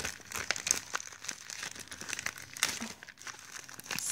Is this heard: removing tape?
yes